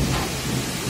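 Heavy rain pours down steadily during a thunderstorm, with rumbling low in the mix and objects being knocked about, a close, continuous wash of noise with no break.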